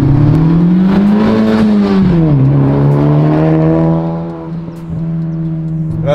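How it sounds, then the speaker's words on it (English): Honda Type R turbocharged engine revving with a strong rising and falling tone, then easing off as the turbo blow-off valve releases with a hiss, loud and close from inside the car. "I love the blow-off sound."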